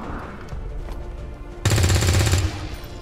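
Gunfire in XCOM 2 during a zombie mission, a short sharp burst of rapid automatic shots lasting under a second, loud and close against a quieter background.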